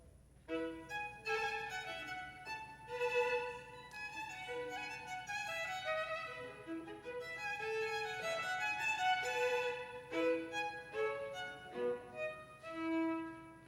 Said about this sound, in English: if she would play you a little gavotte, just a little of it, by Bach